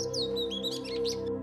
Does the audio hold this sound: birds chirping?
yes